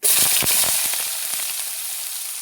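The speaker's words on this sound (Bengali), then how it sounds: "পেঁয়াজটাকে লাল লাল করে ভেজে নেব" Chopped onion and whole cumin seeds hit hot oil in a pan, a loud bright sizzle bursting at first and then settling into a steady, slightly softer crackle, with no talking.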